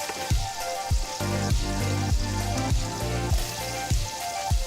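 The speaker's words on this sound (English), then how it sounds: "I'm going to add in the onion and begin to let that saute for our sauce." Onion sizzling as it sautés in melted butter in a pan, a continuous crackling fry close up with a few sharp pops and occasional stirring knocks.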